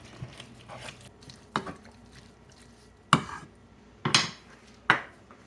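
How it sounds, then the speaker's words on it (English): A spoon scraping and knocking in a pot of salted tomatoes, several sharp clinks spaced irregularly over faint wet stirring, close and fairly quiet. "Stir it up."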